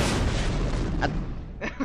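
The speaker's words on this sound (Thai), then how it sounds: "ระเบิดเลย" A loud explosion goes off in the video game Minecraft, a broad, booming burst that fills the first second and then fades, followed by a couple of short crackling pops.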